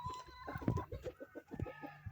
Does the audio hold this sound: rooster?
yes